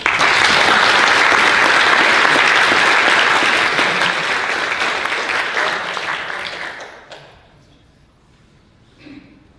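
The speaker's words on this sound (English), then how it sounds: "if you could join me in thanking these people with a round of applause" A conference audience claps in sustained, dense applause that holds strong for several seconds, then thins and fades out, leaving a few scattered claps at the end.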